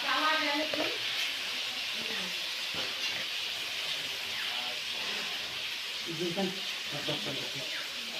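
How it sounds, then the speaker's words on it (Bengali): Tomatoes fry in a pan for a fish curry, giving a steady, close hiss and sizzle throughout, with a voice briefly audible at the start and again near the end. "এখন আমি টমেটোটা ভাজা করে নিচ্ছি এটা দিয়ে মাছের ঝোল করবো"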